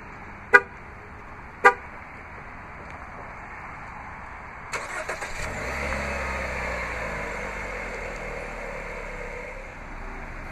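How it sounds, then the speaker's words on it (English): A black 2015 Jeep Renegade Trailhawk 4x4 on remote start gives two short horn chirps, then after a pause the engine cranks, catches and settles into a steady, moderately loud idle. "Just double press the remote start button on the key fob."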